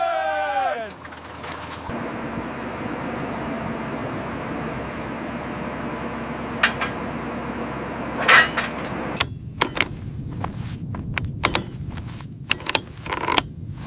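A drilling rig bores a well in the desert, giving a continuous droning mechanical hum that gives way to scattered clanks and knocks toward the end.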